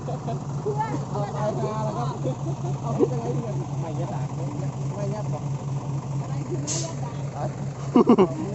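A farm tractor drives during rainy-season field work, its engine droning steadily at a low pitch for the whole stretch while people talk over it, with a few sharp knocks near the end.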